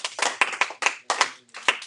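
A small classroom group claps for student volunteers, a handful of sharp, close hand claps in a loose uneven rhythm over about two seconds, with no voices.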